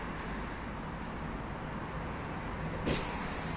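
All four power windows of a 2021 Toyota Proace City lower at once, making a steady whirring motor noise inside the car that ends with a short click.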